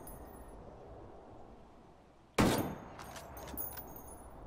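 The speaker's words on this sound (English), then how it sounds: "I'm going to go ahead and fire a couple more shots just to weed out any error" An M40A5 sniper rifle fires a single sharp, loud shot in Ghost Recon Wildlands, followed by a decaying echo and some faint clatter, with no voices.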